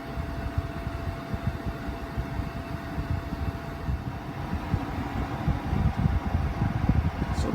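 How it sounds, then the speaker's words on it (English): The exhaust blower on a refurbished Harman Accentra fireplace insert runs with a steady low hum and a rumbling whir, fairly quiet and continuous throughout. "The loudest noise right now is the exhaust blower."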